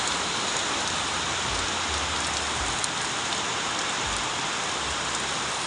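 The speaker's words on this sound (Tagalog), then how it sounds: "Lakas ng ulan." Heavy rain pours down steadily in a dense, unbroken roar on a rural yard, with a faint low rumble briefly underneath.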